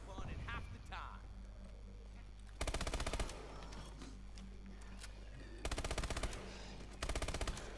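Gunfire from a weapon in Call of Duty: Exo Zombies comes as three loud rapid bursts, with quieter mechanical clicks and game sounds in between and a voice talking in places.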